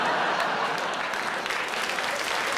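Theatre audience at a Dylan Moran stand-up show bursting into sustained, dense applause, an even roar of many hands clapping with no voices on top.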